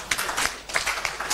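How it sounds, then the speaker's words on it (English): An audience claps for a minister at a results release event, a short burst of brisk, uneven clapping from a modest crowd at moderate volume. "ITC, I think we need to clap for the minister."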